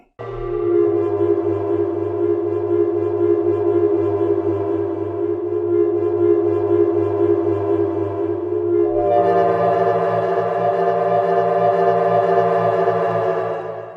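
A sustained, droning tone thick with reverb washes out evenly, shifting to a brighter, higher layer partway through, loud and continuous without any voices.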